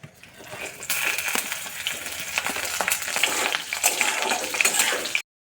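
Vegetables hit hot mustard oil seasoned with dried red chillies, bay leaves and black cumin seeds, setting off a busy, close sizzle with stirring clatters that grows after a quiet start and cuts off abruptly at the end.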